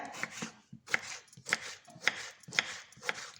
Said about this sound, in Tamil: இப்போ இந்த தக்காளியும் வந்து நல்லா நைஸாக நீங்கள் கட் பண்ணிக்கோங்க